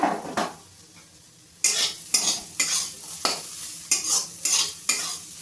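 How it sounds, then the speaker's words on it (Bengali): Spiced vegetables are stirred in a frying pan for an egg dish, a spatula scraping and knocking against the pan in loud, regular strokes after a quieter start, over a soft sizzle. "এবার আমি ভালো করে নাড়িয়ে চাড়িয়ে আমি ডিমটা দিয়ে দেবো এর মধ্যে।"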